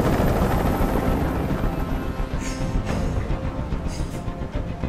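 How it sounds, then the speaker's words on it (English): A helicopter hovers close overhead during a hostage standoff in the video game Detroit Become Human, its loud, steady rotor drone and rhythmic blade chop continuing without a break. "I can't stand that noise anymore. Tell that helicopter to get out of here."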